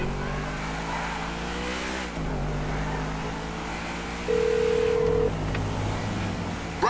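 In Grand Theft Auto V, a speakerphone call comes through as a single steady electronic tone lasting about a second over the constant drone of a car engine.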